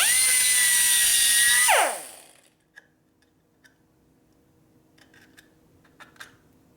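A high-pitched cutter whines steadily while machining a 1957 Harley-Davidson Panhead cylinder head, then spins down in a falling glide, followed by faint scattered ticks and clicks.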